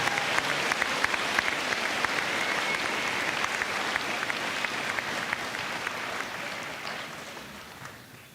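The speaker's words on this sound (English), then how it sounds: "Let's give them a round of applause." A high school graduation audience applauds the graduating seniors, a sustained wash of many hands clapping that slowly fades near the end.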